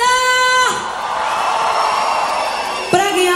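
At a forró concert in Salvador, a live crowd screams and cheers on cue in a sustained, loud roar, framed by a singer's sustained vocal notes before and after.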